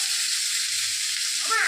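Potatoes lowered into hot oil give a bright, even sizzle that holds steady through a short moment, with a faint clink near the end.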